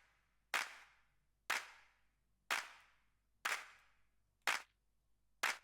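Six sharp clap drum sample hits in Ableton, evenly spaced about a second apart, each a dry crisp snap with a short decaying tail, alone with no talking.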